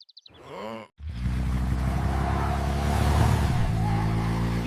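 A motorcycle engine starts up after a brief groaning sound, then runs with a steady, loud, close rumble for several seconds.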